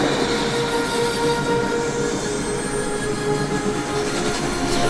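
A train runs steadily along the tracks, its continuous rumble and rattle of wagons heard up close and loud, with thin wheel squeal streaks threading through the whole stretch.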